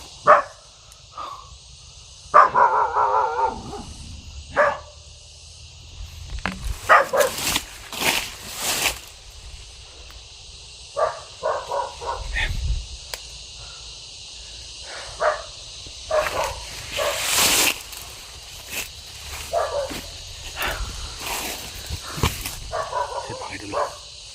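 A dog near houses barks in short, scattered bursts across a stretch of outdoor sound, with people talking at moments.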